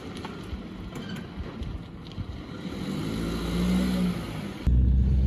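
A Vauxhall Astra SRI from 2011 pulls away and drives, its engine and road rumble steady and close, rising gradually with a louder surge near the end and some wind buffeting.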